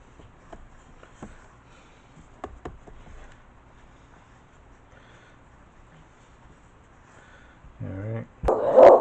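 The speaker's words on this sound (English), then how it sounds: "We're getting a lot of animal activity outside, so the dogs are very excited." Excited dogs bark at animal activity outside, with sparse faint sounds at first, then a burst of loud, close barking and yelping near the end.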